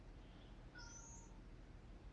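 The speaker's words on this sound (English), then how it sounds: "I can hear the cat." A cat meows faintly, one thin rising cry heard at a distance over steady background rumble.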